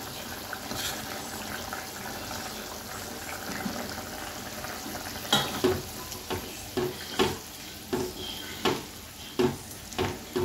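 Prawns go into a small amount of simmering Bengali prawn curry gravy, a steady sizzle and bubbling that turns into a run of sharp, rhythmic stirring scrapes against the pan in the second half, close and fairly loud.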